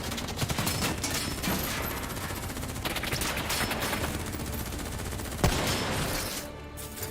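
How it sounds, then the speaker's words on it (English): Dense, continuous gunfire fills a Call of Duty Black Ops III firefight, overlapping automatic bursts and shots rattling without pause, with one sharper crack standing out near the end before the barrage thins. "Who's shooting?"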